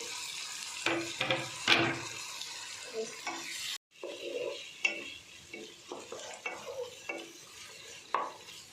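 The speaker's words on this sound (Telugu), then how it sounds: "టమాటో ముక్కలు వేస్తాం కదా, ఒక 5 మినిట్స్ మగ్గనివ్వాలి టమాటోల్ని" Tomato pieces tossed into onions frying in a pan, with scraping stirs and a continuous sizzle, a brief pause midway, then more clinking utensil strokes over steady frying, close and without talk.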